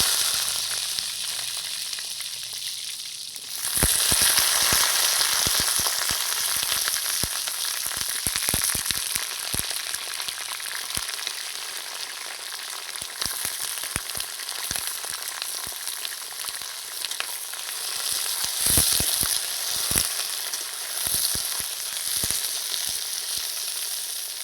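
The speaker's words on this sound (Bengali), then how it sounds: "সবার প্রথমে আমি রসুন বেগুনটা বানানোর জন্য সবার প্রথমে বেগুনটা ভেজে নেব।" Eggplant frying in hot mustard oil: after a quiet opening, a loud, steady sizzle starts and runs continuously, broken by frequent sharp crackles and pops.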